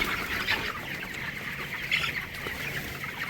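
Twenty-four-day-old broiler chickens in a poultry shed, recovering from a cold, cluck and chatter continuously as a dense flock, steady and fairly close with no talking.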